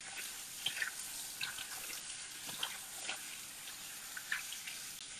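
Tap water running into a sink while bok choy is rinsed, a faint steady stream with soft splashes and small drips scattered across it, heard alone without talk.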